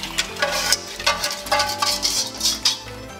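Egg and sugar mixture poured into a saucepan while making strawberry tart filling, with irregular clinks and scrapes of utensils against the pan, close and fairly quiet, no voices.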